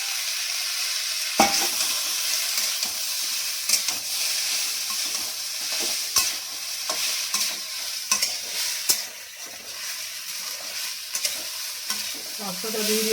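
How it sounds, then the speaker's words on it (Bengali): Pasta frying in a pan with already fried onions, a continuous loud sizzle broken by repeated scraping and stirring clatters, heard close and alone without talk. "দেখুন এই পাস্তাটা এবারে দিয়ে দেবো"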